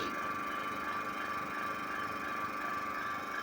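A steady mechanical hum with a high whine from a refrigerator compressor motor in a homemade air compressor runs continuously at low volume, unchanging throughout, with no talking.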